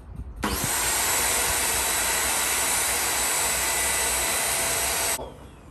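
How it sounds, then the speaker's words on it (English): A vacuum cleaner cleaning the clogged filter of a Roborock robot vacuum switches on and runs with a steady, loud roaring whine for about five seconds, then cuts off abruptly. "You can just use another vacuum and just clean it off"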